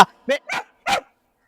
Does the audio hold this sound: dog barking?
yes